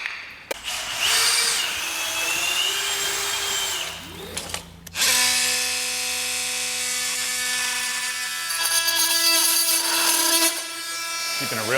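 A power drill boring holes during a garage wall build, loud sustained whirring bursts, one short run then a longer one after a brief pause, with voices talking.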